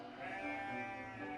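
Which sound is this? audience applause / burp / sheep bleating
sheep bleating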